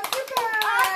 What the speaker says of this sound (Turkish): Alkış alalım.